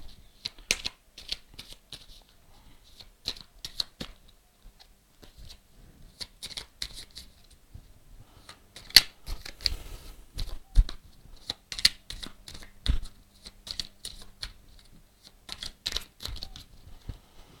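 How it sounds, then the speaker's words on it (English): A deck of Warhammer 40,000 Ork objective cards being shuffled by hand, with repeated bursts of crisp riffling and flicking, some sharper card snaps in the second half, close up with no talking. "let's shuffle this deck of Orky objectives and see what objectives the Orcs are going to attempt to achieve"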